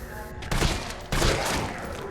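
Gunshots in Resident Evil 3 come as two loud, booming shots about half a second apart, each with a long echoing tail, set against a faint steady background hum.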